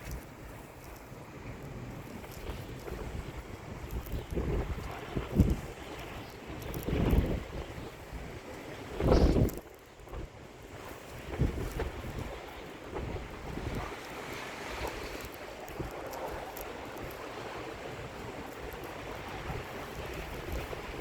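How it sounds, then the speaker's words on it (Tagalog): Strong wind roars steadily through a snowstorm in Ontario, Canada, with broadband rushing and buffeting gusts hitting the microphone, including a louder blast near the middle. "Grabe ang hangin."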